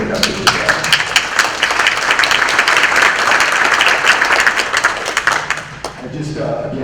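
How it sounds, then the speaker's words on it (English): Audience round of applause at an estate planning quarterly meeting, a steady dense wash of clapping that holds for several seconds before tapering off near the end. "So we give a round of applause."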